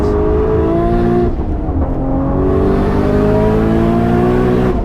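Loud, close engine of an 850hp Nissan Skyline R34 GT-R V-Spec with a big turbo, revving hard through the gears at the Nürburgring; rising engine pitch drops sharply at an upshift around the middle, then climbs again.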